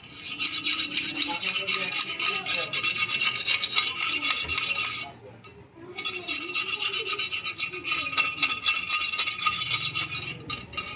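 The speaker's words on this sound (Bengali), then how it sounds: "এভাবে ওয়াশ করবেন" A screwdriver scrapes and rasps through the burner holes of a gas stove, a steady close scratching rub that runs almost continuously, pausing briefly midway before resuming.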